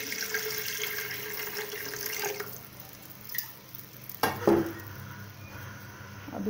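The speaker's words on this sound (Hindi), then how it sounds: "इसमें मैं अब 2 ग्लास पानी के ऐड कर रही हूँ।" Water runs and splashes into a pot of moong dal and rice, stopping partway, followed by a few clinks and a brief second pour.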